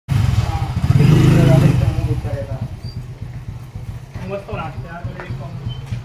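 Motorcycles ridden by bikers arrive with a loud engine rumble that swells to a peak and then fades, while people talk over the ongoing lower engine noise.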